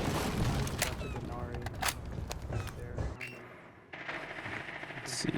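Gunfire in Rainbow Six Siege on console: sharp, loud bursts of rapid shots, then a short lull before more clattering shots, with someone talking throughout.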